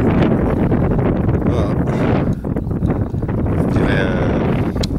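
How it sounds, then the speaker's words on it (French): Strong wind buffets the microphone outdoors during a metal-detecting outing, a loud, steady rumbling roar with gusty surges throughout and no clear speech. "j'essaye de me mettre à la cale du vent, hein, parce qu'il y a un peu de vent"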